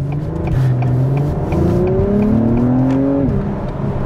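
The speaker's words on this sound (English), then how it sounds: "Oh, they did so good with the exhaust note." A 2021 Acura TLX Type S sport sedan engine revs up and down, the exhaust note rising and falling in a loud, smooth drone with crisp pops along the way.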